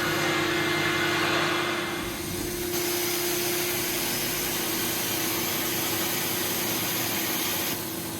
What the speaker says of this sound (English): we've cleaned one half of this portion of the room using our Cymex machine